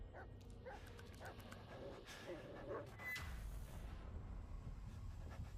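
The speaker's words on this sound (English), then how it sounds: "Dog's name is Bullet" A dog in an Xbox E3 2019 game trailer gives a few short yips and whimpers over a low rumbling soundtrack, with a louder booming swell near the end.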